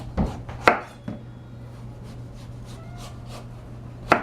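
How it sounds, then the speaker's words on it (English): A sharp knife slices the skin off a squash, giving a few scattered crisp cuts and scraping strokes, close and fairly faint, over a steady low hum. "you just come right down here, cutting the skin off as you go"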